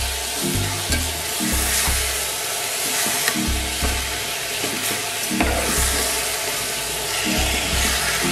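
Soaked dalia (broken wheat) roasts in a pan with a steady sizzle, while a spoon scrapes and stirs it in a repeated rhythm, close and fairly loud throughout.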